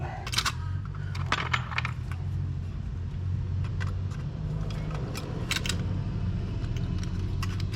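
Pliers pry up the soft metal tabs on a 1936-37 Lionel Junior toy train set, making small metallic clicks and scrapes against a steady low background hum, close by with no speech.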